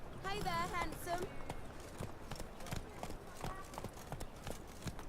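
Roach the horse in The Witcher 3: Wild Hunt trotting, with a steady run of close hoof strikes throughout and a brief tonal voice or whinny-like sound near the start.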